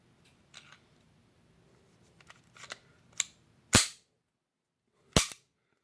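Pistol dry firing on a snap cap, a few faint mechanical clicks of handling followed by two sharp, loud metallic snaps about one and a half seconds apart in a quiet room.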